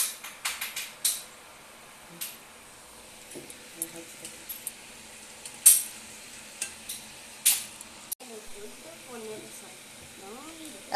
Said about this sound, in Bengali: দেখুন ভিডিও নিমকি ভাজা চলছে